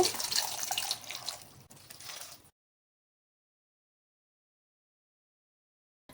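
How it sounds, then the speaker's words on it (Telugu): Water pours steadily into a cooking pot for sambar rice, a splashing stream lasting about two and a half seconds before it stops abruptly and leaves near silence. "ఇప్పుడు ఈ వాటర్ పోసుకోవాలి. 5 గ్లాసులు పోసుకోవాలి."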